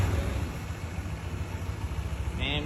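A 2024 Honda Vario 160 ABS scooter idles just after starting, giving a steady, close low engine hum with a brief higher chirp near the end.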